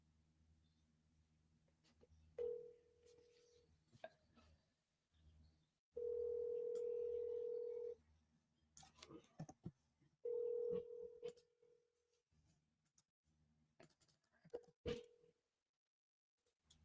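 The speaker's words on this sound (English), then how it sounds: "Just dialing." Telephone dialing tones from a wholesaling real estate seller call, with several separate beeps of varying length, one held about two seconds, between quiet clicks and small handling noises.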